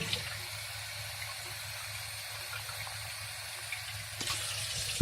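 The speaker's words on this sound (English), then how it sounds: "grab some water and fill the secondary container, not this, that, with water until it goes about half" Water runs steadily into a secondary container while making flan, a continuous close splashing pour that keeps going the whole time and swells briefly near the end, with no talking.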